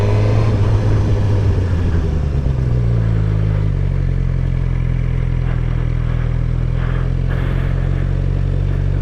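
A motorcycle engine is heard on a ride by a new rider in second gear, its low drone dropping in pitch and then steadying as the throttle is opened, loud and constant with wind rumble throughout.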